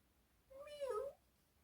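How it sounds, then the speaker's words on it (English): A kitten gives a single short, clear meow, rising then falling, alone in a quiet setting. "So he fetched a kitten."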